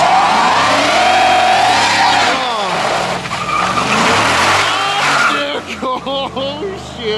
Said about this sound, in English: Yeah, it was only half a wheel peel for a second.